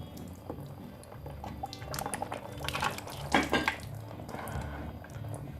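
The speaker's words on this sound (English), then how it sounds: "there comes all the water out." Coolant trickles and splashes unevenly as it drains from a KTM 990 motorcycle, swelling into a heavier gush midway before easing back to a steady pour.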